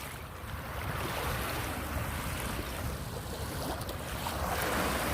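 Lake water washing against the shore at a lakefront, a steady broadband wash of small waves with a low rumble of wind or water noise, continuous and fairly close, with no talking.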